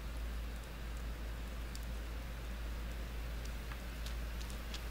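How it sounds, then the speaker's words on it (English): Steady rain falling in the video game Persona 4, a constant soft hiss with faint scattered drip ticks, even and unbroken throughout, moderately quiet with no voices. "It's another rainy day."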